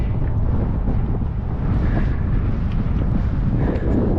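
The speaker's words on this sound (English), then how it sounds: "having a tough go at it into this wind" Strong headwind batters the microphone on a coastal road ride through a construction zone, a loud, continuous low rumble and buffeting roar that fills the whole stretch before cutting off abruptly.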